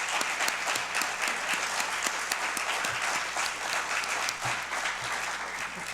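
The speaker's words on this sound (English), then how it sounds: "how about a round of applause for our candidate?" Audience applause for a candidate at a League of Women Voters candidate forum for the Thousand Oaks city council districts, a dense, steady roar of many hands clapping that holds evenly for the whole stretch.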